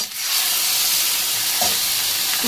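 Potatoes frying in a pan with ground cashew paste and tomato, a dense, steady sizzle and hiss close up, with a brief stirring scrape near the end.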